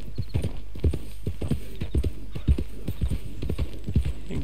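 Horse hooves clip-clop at a steady trotting rhythm in the Western open-world game Red Dead Redemption II, each beat sharp and fairly close, continuing throughout with a low hum underneath.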